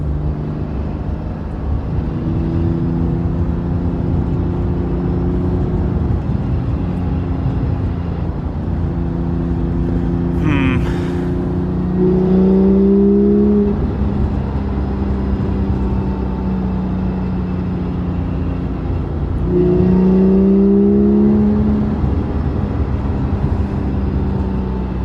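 A Porsche 997.2 GT3 RS engine drones steadily at close range, its pitch rising twice as it accelerates, with a brief clatter partway through.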